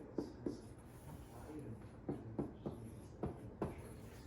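A pen or pencil scratches quickly across paper while practice factoring problems are written out by hand, in short bursts of close, quiet strokes with brief pauses between.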